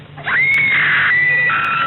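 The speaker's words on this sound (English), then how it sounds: "Practice your screams." A single sustained high-pitched scream from a spooky horror radio drama, loud and close, held for nearly two seconds with a slight pitch drop near the end.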